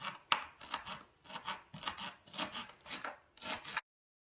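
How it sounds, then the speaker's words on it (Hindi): Fresh coriander chopped with a knife on a board after washing, giving a steady run of about eight close, crisp scraping cuts in an even rhythm, then stopping. "धीरे धीरे छोटे छोटे काट लेंगे।"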